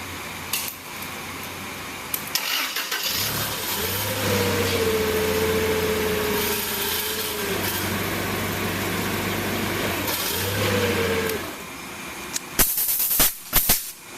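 A forklift engine running steadily while the mast is raised and tilted forward, with a hydraulic whine that rises and holds over the hum, then a rattle of metallic clanks near the end.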